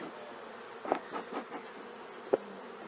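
Honey bees hum in an opened breeder hive after smoke is applied: a steady, moderately quiet drone, broken by a few soft knocks and one sharp click.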